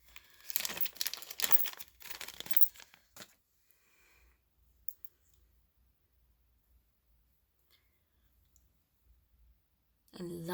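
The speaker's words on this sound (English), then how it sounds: "Wow, this tape is pretty good." Tape being pulled and handled, a burst of close crinkling, tearing and clicking for the first few seconds, then quiet rustles and faint handling before another short crackle at the end.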